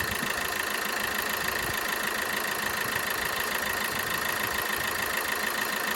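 A 2014 Vauxhall Combo van, a non-runner being worked on, idles with a steady, even engine drone and faint mechanical ticking, constant throughout with no voices.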